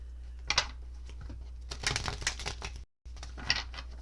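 Tarot cards being shuffled in a quiet room, a few quick papery riffling bursts with soft flicks and taps in between, close and moderately loud, with no talking.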